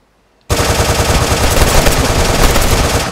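Sustained automatic gunfire in the survival video game DayZ, a loud, close burst that starts abruptly after a moment of quiet and runs continuously for nearly three seconds.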